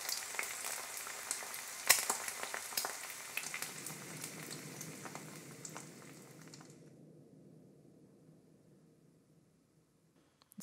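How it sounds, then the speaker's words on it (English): Reverb-only tail of an egg frying, a washy, crackling sizzle smeared by reverb that fades away over several seconds into silence, with one sharp pop early on. "just keep the reverb and have the sound of the frying egg go"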